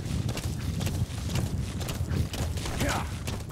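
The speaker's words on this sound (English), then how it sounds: "So let's go, Diamond Horse." D-Horse galloping in Metal Gear Solid 5: The Phantom Pain, a fast, steady hoofbeat rhythm running throughout, close and loud over rushing game ambience.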